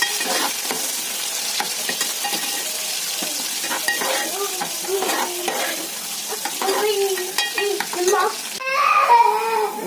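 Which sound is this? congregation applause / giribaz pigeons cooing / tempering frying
tempering frying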